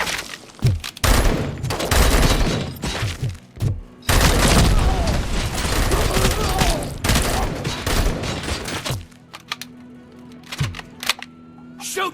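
Rapid gunfire from Robocop Rogue City: dense fusillades of automatic shots and booming impacts, loud and close, with shouted voices in between and a quieter stretch near the end.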